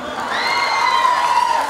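Crowd at a cultural festival program clapping and cheering steadily throughout, with whoops above a sustained tonal background, close and fairly loud.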